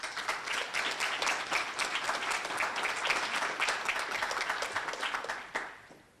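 An audience applauds to welcome a speaker at the 2016 Owensboro Community and Technical College GED graduation. The clapping is sustained and full, and it tapers off at the end.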